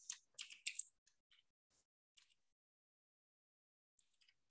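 Computer keyboard typing, a quick burst of close, crisp keystrokes at the start followed by a few sparse, softer taps spread out over quiet pauses.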